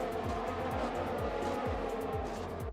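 Race cars in F1 2020 at a race start, a dense roar of many engines with rising whines sweeping up repeatedly as cars accelerate and pass, steady and loud throughout before easing at the very end.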